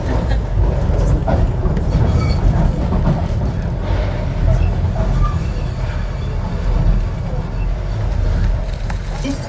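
Docklands Light Railway train running between Canary Wharf and Stratford, heard from the front cab: a steady loud rumble of wheels and motors throughout, with faint squeals and clicks on the track.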